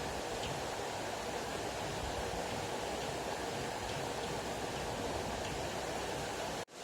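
A pot of spicy mutton masala gravy bubbling at a steady boil, a dense continuous rushing hiss with no talk, cut off abruptly near the end.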